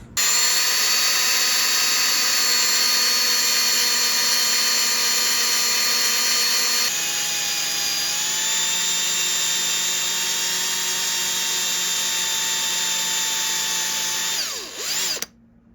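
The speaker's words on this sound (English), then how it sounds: "I have to drill some of that lead out of the front hole." A power drill bores lead out of the front hole of a wooden fishing lure, a loud, continuous high whine that steps up slightly in pitch midway and stops abruptly near the end.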